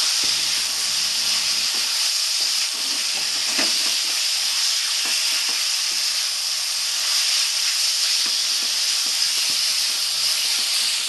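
Masala for a Bengali-style boneless chicken curry sizzles in a tablespoon of oil with salt and turmeric, a loud, steady frying hiss heard on its own, without breaks.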